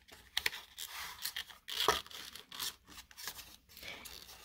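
Paper gift box tabs and flaps being folded and tucked by hand, a series of close crinkles, rustles and short creasing rubs, with one sharper scrape near the middle, no voices.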